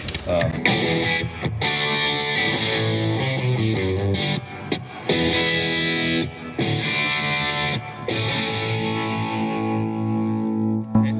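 Overdriven electric guitar chords through a Bogner Ecstasy Blue pedal into channel 1 of the amplifier, played in sustained phrases with brief gaps, loud and saturated, no voices.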